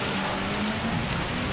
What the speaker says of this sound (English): probably the best, one of the best rain simulations out there